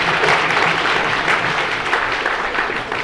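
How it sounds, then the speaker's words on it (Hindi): Loud, dense applause from an audience at a Bait Baazi poetry contest during an All India Educational Conference in Aurangabad, sustained steadily for about three seconds. "जोरदार तालियां।"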